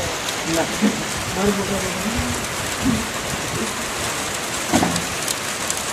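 Heavy unseasonal rain pours down in a steady, dense hiss, with people talking briefly over it.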